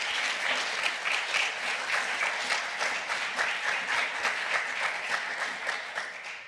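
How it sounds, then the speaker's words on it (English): A conference audience at a Hamburg Pride human rights event gives sustained, even applause, a steady crowd of hands clapping at moderate loudness that tapers slightly at the very end. "maybe we can give like a round of applause to the people in Pécs"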